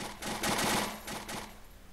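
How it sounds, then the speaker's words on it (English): Machine gun fire in the Unturned WW2 mod, a short close burst of rapid shots in a couple of clusters, loud and sharp, with no talking. "Okay, we've got the machine gun."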